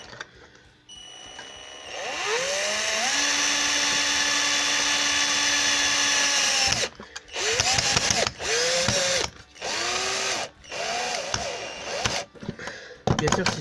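An electric screwdriver or power drill drives a screw into a homemade camera slider fitted with a GoPro mount, whining at rising pitch in one long run, then in several short bursts, close and loud.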